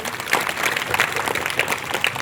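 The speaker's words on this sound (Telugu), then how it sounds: "చప్పట్లు కొడదాము దేవునికి" A church congregation clapping for God, a brief burst of steady, moderately loud applause from a crowd.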